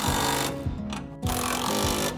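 Power tool or driver buzzing in short, close bursts with brief pauses while a truck bed rail bracket is bolted on a Chevy Colorado with a 14mm socket.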